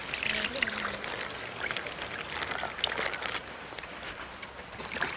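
Milk pours steadily into flour for Kerala parotta dough, a continuous close splashing stream running the whole time with voices talking over it.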